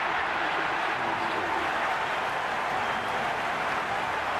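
A stadium crowd in the cricket video game Cricket26 during an IPL-style RCB versus CSK match, producing a steady, dense roar of applause and murmur that holds level throughout, with no voices standing out.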